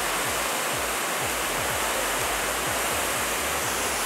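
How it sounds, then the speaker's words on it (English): A waterfall at a popular outdoor photo spot roars as a steady, dense wash of rushing water, constant and full throughout with no voices. "I'm gonna shoot this waterfall here,"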